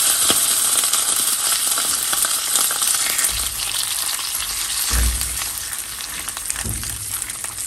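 Steady sizzling and crackling of chiles frying in a pan, with occasional soft clinks and stirring noises, close and continuous.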